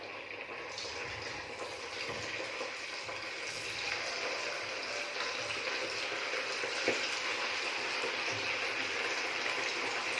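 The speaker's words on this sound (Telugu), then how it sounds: "ఇలా మనం చికెన్ మొత్తం ఇలా మ్యారినేట్ చేశాక ఇలా ఆయిల్లో మనం ఫ్రై చేయాలి" Marinated chicken pieces for Chicken 65 frying in hot oil, a steady, close, hissing sizzle with small crackles that builds slightly over time, no talking.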